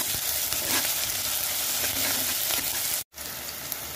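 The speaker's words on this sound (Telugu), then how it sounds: "ఇప్పుడు ఇందులో హాఫ్ టీ స్పూన్ వరకు అల్లం వెల్లుల్లి పేస్ట్ వేసుకుందాం." Ginger garlic paste sizzles in hot oil in a pan, a dense, steady hiss with faint stirring, close and continuous, with a brief dropout near the end.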